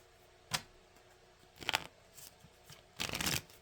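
Angel cards are shuffled in short bursts, three crisp riffling rustles spread across a few seconds, close and fairly quiet with no talking.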